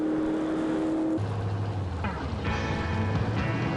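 A Ford drag racing car accelerates hard, engine note dropping and climbing through shifts, a loud continuous mechanical roar with rising whine, heard alone without voices.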